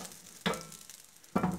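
Half of a Maggi noodle omelette mixture poured into hot oil in a pan, giving two short, fairly loud sizzling bursts with quieter frying hiss between them.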